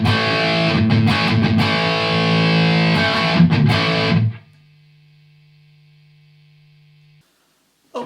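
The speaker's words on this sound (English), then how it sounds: "GX100 Distortion." Electric guitar running through the distortion model of a Boss GX100 processor, with heavily distorted strummed chords that stop abruptly and leave a steady low amplifier hum that then falls silent.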